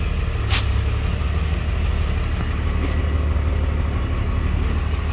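A 2nd gen Cummins diesel truck pulls away slowly in first gear, low range, in two-wheel drive, with a steady, loud, close engine drone and low rumble throughout and no talking.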